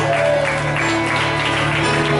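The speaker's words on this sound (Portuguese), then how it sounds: "Aplauda mais ao Senhor, querido." Steady, sustained applause from a crowd at a church men's retreat, dense and continuous throughout, with a low hum and faint tones underneath.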